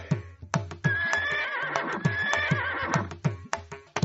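A horse whinnies loudly and at length over a regular beat of hoof thumps, close and prominent, in a royal-court setting from a Tamil animated tale.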